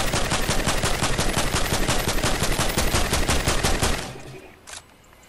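Rifle in Fortnite fires a rapid, loud automatic burst of evenly spaced shots for about four seconds, then stops and fades, followed by a single faint click.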